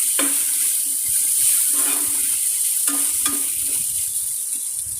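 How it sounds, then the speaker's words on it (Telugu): Curry leaves, tomatoes and onions fry in a pan with a steady, loud sizzle, broken by a few scraping stirs and clinks. No one speaks. "కరివేపాకు వేగిన తర్వాత టమాటాలు మిగిలిన ఉల్లిపాయలను వేయాలి"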